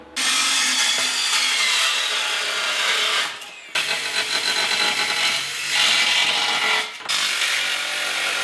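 A saw cuts through wooden legs for a lightweight DIY pop-up ice cabin, loud steady rasping that runs continuously with two brief pauses, close up and with no talking.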